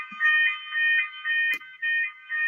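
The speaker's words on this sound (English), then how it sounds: "it's our fire alarm goes on" A fire alarm going off indoors, a loud electronic tone pulsing in steady repeated bursts with no talking over it.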